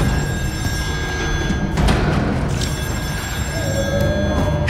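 Telephone ringing in the horror game Still Wakes the Deep, set on a North Sea oil rig: a steady ringing tone sustained across the whole stretch over a low mechanical hum, with no one speaking.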